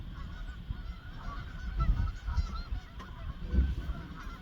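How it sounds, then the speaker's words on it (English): Geese honk repeatedly at a distance, scattered calls rising and falling over a quiet outdoor background. "Them geese went on, Drew."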